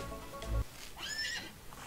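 A horse neighs in the video game Outlaws of the Old West: a short, close whinny with a rising then falling pitch, preceded by a low thump and faint background noise.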